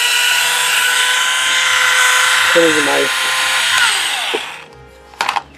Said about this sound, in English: my drill does not want to stop.